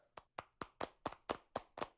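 Slow, evenly spaced hand claps at the close of a conference session, about eight crisp claps near the microphone, sparse and isolated rather than a full audience ovation.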